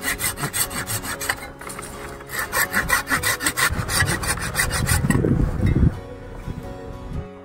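A hand saw cuts through a branch while a fig bush is pruned, giving a close, steady rhythm of rasping back-and-forth strokes, followed by a brief rustle of leaves as the cut finishes.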